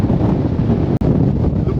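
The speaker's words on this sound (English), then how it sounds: "The wind is mental." Storm Darragh wind roars against a tent at a wild camping spot, steady, loud and close, with gusty buffeting right on the microphone and a momentary break near the middle.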